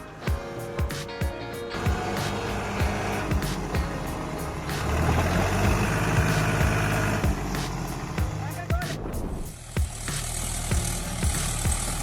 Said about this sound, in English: The engine roars, the wheels spin, but it goes nowhere. Even the New Holland 3630 is powerless here.